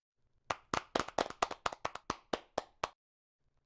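A single person claps about a dozen times in a steady rhythm to applaud a presenter at a virtual perception and cognition session, the crisp claps close and isolated before silence.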